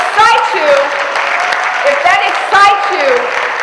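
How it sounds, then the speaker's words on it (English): An audience applauds at a Black business conference session, a steady wash of clapping heard beneath a loud voice talking over it. "give me a round of applause"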